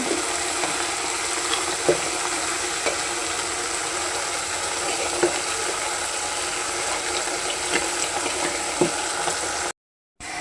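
A mixture stirred in a pan while water is added little by little, for a homemade hair-fall remedy, giving a steady soft frying hiss with occasional light scrapes and taps of the utensil, no talk.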